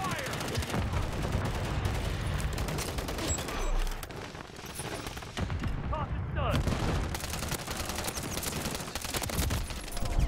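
Rapid gunfire from the video game Modern Warfare 3 rattles almost continuously across the clip in dense automatic bursts, with a brief lull near the middle, mixed with game sounds and voices.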